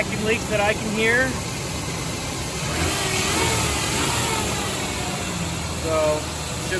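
A Ford 4.0 OHV engine in a Ford Ranger pickup idles steadily after a valve cover gasket replacement, a close continuous mechanical hum with slight rises in revs and a faint high whine above it.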